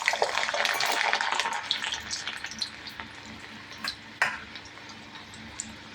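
Garlic frying in hot oil in a home kitchen pan, a steady loud sizzle with crackling spatters that gradually eases, with no talking.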